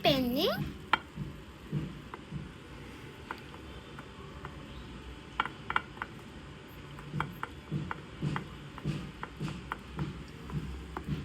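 Curry stirred in a pan on a miniature cooking set, with faint scraping and light ticks of a utensil against the pan, soft, close and irregular, with a sizzle beneath and a voice speaking.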